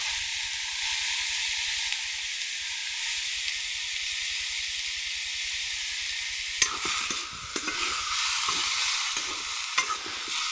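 Vedailota leaves fry in a hot pan with a continuous bright sizzle, then, after several seconds, stirring adds clattering, irregular scrapes over the hiss.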